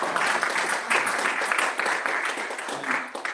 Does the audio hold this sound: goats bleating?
no